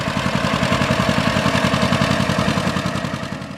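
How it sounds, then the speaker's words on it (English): A John Deere Model B two-cylinder tractor engine runs close by with a steady, loping putt-putt rhythm, loud and uninterrupted. "The next tractor takes us straight into the two-cylinder empire, with an engine sound you can recognize with your eyes closed"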